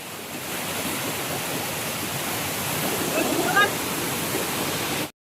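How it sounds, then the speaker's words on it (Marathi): Full waterfall at Kelwa dam pouring during monsoon rain, a loud continuous roar of rushing water heard close, with faint voices briefly audible before it cuts off. "फुल वॉटरफॉल जवळ वाहतोय."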